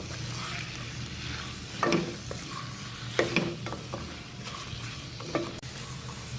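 Thinly sliced onions frying in oil for a deshi chicken bhuna, a soft continuous sizzle with a few sharper scrapes and stirs spaced a second or so apart, fairly quiet and without speech.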